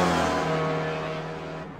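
A race car on the 1.5-mile, 11-turn Lime Rock Park circuit with the chicane in, its engine holding a steady loud drone that eases slightly as it runs the start of another lap.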